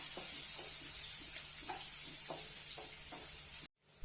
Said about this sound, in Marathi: आता आपण गॅस मिडियम ठेवून चांगलं परतून घेऊया